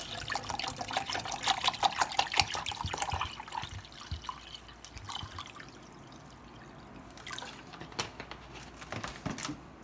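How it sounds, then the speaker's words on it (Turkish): Cold water pours into homemade lemonade in a steady close trickle and splash that is louder at first, then thins into lighter dribbles and drips. "soğuk suyumuzu döküyoruz"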